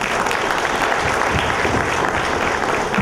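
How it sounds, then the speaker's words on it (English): Steady applause from a conference audience at an agile software event in India, dense continuous clapping at even loudness throughout. "A warm round of applause for"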